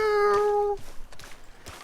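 A cat in Red Dead Redemption 2 gives one clear, drawn-out meow up close, tonal and steady, then trails off into faint game ambience and soft clicks.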